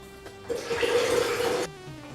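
A liter of water poured into a container for sekanjabin juice, a steady splashing gush lasting just over a second, close and fairly soft.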